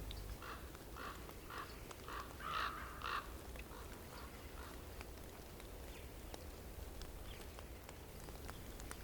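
Ravens cawing around white-tailed eagles outdoors, a cluster of harsh, repeated calls early on, loudest around the middle, then a few fainter scattered caws over low ambient noise.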